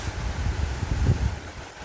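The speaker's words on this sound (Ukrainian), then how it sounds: "Вітер просто шалений." Strong wind high on a hillside in the Italian countryside buffeting the microphone in a steady low rumble with gusty surges, loud and constant throughout.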